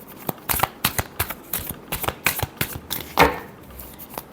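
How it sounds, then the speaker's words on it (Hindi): A deck of tarot cards is shuffled close up, a quick series of crisp riffling flaps and slaps in an irregular rhythm, with one longer ruffling burst near the end. "Last shuffle."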